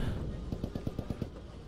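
Rapid burst of about eight sharp gunshots in quick succession in the game Post Scriptum, punchy and close, with a synthetic game-like quality over a steady background hum.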